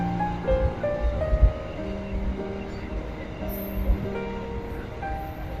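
A train rumbles by nearby with low rolling noise and some tonal hum, steady over several seconds, with faint talk in the background.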